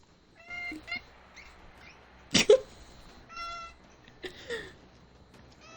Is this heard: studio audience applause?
no